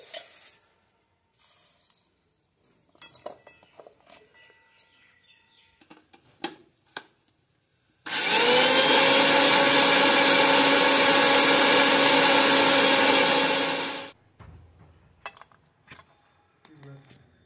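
An electric grinder whirs steadily at close range for about six seconds as it grinds puffed rice into powder for homemade papad, with quiet handling noises before and after.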